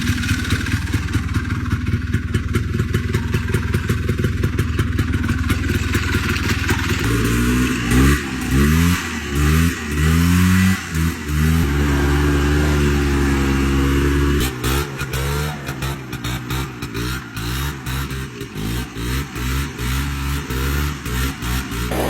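An old Polaris 6x6 ATV with a two-stroke engine and faulty all-wheel drive, idling roughly before repeated revs rise and fall in bursts, a loud, close, buzzing rattle throughout.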